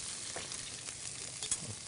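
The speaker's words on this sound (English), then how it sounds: "The rest of the items will heat up pretty quickly as we're sauteing." Carrots, garlic and tortellini sauteing in a pan, giving a steady close sizzle with faint stirring scrapes and a few brief crackles, no voices.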